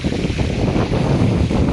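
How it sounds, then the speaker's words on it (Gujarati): Wind buffets a microphone over a farm field while irrigation water is being run, a loud, continuous low rumble with no voices. "અત્યારે પવન મિત્રો આ બાજુથી છે ને એટલે બધું પાણી આમ ભાગે છે"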